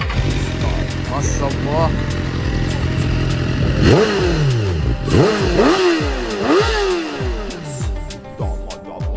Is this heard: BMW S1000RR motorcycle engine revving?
yes